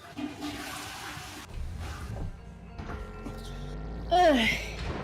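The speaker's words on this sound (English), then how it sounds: "By the way, you do realize we can hear your toilet flush" A household toilet flushes with a rushing, gurgling swell of water that builds and then drains away, heard faintly in the background over game sounds.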